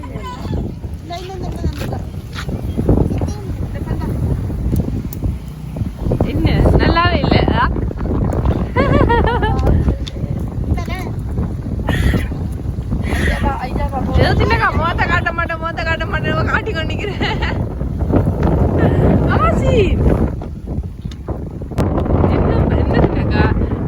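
Strong outdoor wind buffets the microphone on a farm, a rough, gusty rumble running throughout while people talk over it.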